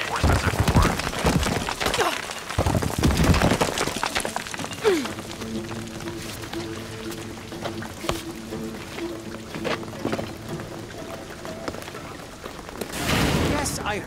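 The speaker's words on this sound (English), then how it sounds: "What I'm telling you is the rain is gonna flood it." Rain pours down in Shadow of the Tomb Raider, a steady hiss of falling water with dripping and splashing that continues alone for a stretch, partly under dialogue.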